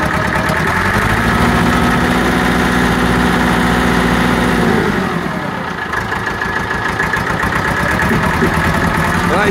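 A Massey Ferguson 275 diesel farm tractor idles loud and close with an engine miss, a rough, uneven rumble that dips briefly midway before settling back into its steady chug.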